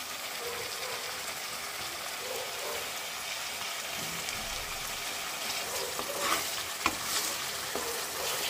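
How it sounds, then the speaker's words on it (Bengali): Palak chicken, spinach and chicken, fries in a pan with a continuous sizzle, while stirring adds scraping and rattling, growing a little louder with sharper scrapes toward the end. "ফ্রাই হচ্ছে।"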